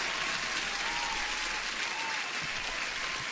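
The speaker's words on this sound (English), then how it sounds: "I forgot to give the applause to everyone." Applause, a continuous dense wash of many hands clapping at an even level throughout, with no breaks.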